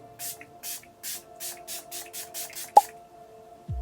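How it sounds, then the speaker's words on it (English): Milani Make It Last setting spray goes on in about ten short, even bursts of fine misty hiss, close and soft, each spritz spaced by a brief pause over a faint background hum. "we are going to melt this into the skin with some setting spray"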